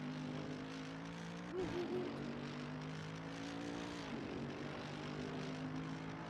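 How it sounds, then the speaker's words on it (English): GT3 race car engines drone steadily in a sim racing game at the Paul Ricard circuit. The tonal engine hum is constant and fairly faint, with slight pitch shifts as the car accelerates. "I almost feel like I gotta turn the engine sounds up a little bit on these."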